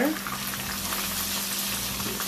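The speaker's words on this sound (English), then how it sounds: "So we're going to allow them to fry on this side first." Fish pieces frying in hot oil in a pan, browning on the first side, make a steady, dense close-up sizzle over a faint low hum, with no pauses or voices.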